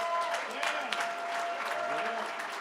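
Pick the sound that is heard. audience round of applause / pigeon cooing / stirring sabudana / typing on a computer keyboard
audience round of applause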